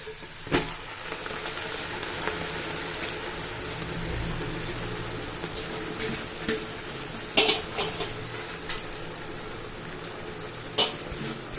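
Gongura leaves frying in oil in a pan, a steady soft sizzle and crackle with a few sharp clicks and knocks, heard alone.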